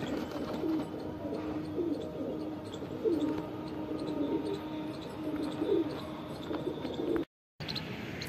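Several freshly bathed pigeons sunning on a rooftop coo in low, rolling phrases, overlapping and repeating, with a brief moment of silence near the end.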